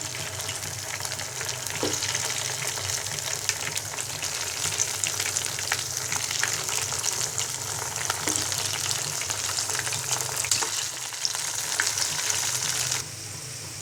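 Bottle gourd leaf pakoras deep-frying in hot soybean oil, a steady bright sizzle and bubbling that holds close and even throughout, with a few faint clicks, briefly easing near the end.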